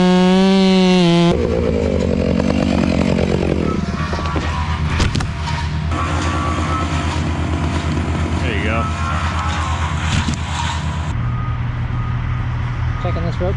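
Chainsaw cutting face and back cuts into a tree on a tree removal job, a steady loud engine drone running throughout, with a loader or heavy machinery rumbling underneath and a shift in pitch near the end.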